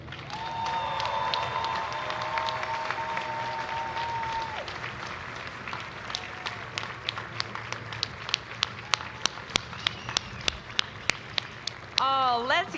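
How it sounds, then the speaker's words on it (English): A commencement audience at a university law school ceremony applauds after a speech: sparse scattered claps at first, then sharper, louder individual claps building toward the end, with some talk early on. "let's give Attorney Davis a rousing round of applause for that wonderful and beautiful and uplifting speech"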